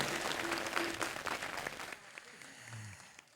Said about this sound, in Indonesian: Boleh beri tepuk tangan untuk Karang Taruna Kota Denpasar.